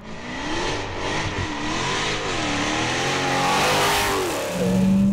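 An 800 bhp Dodge Hellcat accelerates hard, its loud engine note rising and falling through revs before surging again near the end, heard from close by without speech.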